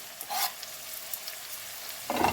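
Onions with ginger sizzling and frying in a pan as they are stirred, a steady close hiss with scraping bursts of the spoon at the start and end.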